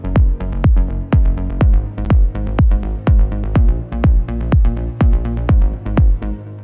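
A punchy kick drum thumps in a steady, regular rhythm, each hit layered with a deep bass tone, loud and alone.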